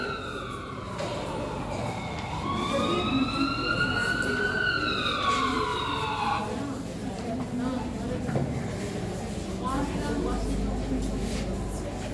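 Ambulance siren effect in a stage skit about a road accident at a college event, a rising and falling wail over a few seconds amid crowd noise and speech, then fading out.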